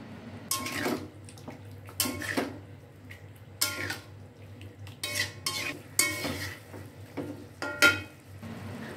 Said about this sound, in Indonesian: Kemudian aduk-aduk, biarkan bumbunya meresap